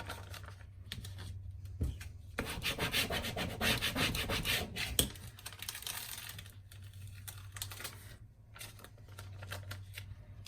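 Paper pressed down and rubbed by hand onto a 12x12 Halloween scrapbook layout, close dry rubbing and scraping strokes with short pauses, no talking.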